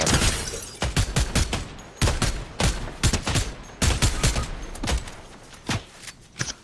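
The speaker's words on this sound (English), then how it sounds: "Oh, I got sniped." Rapid bursts of gunfire in Fortnite, including sniper rifle shots, crack out in dense clusters over about six seconds, loud and close, with brief gaps between volleys.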